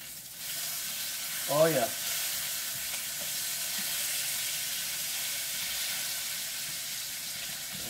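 Bacon and sausage sizzle and crackle in a frying pan while being flipped, a steady hiss that runs throughout, with a brief voice exclamation early on.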